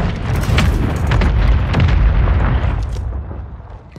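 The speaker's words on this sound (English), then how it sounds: "Inside this building that's being mortar-striked." Mortar strike explosions pound a building in Call of Duty Warzone, loud repeated booms and crackling blasts rolling over one another for several seconds before easing off, with no voices.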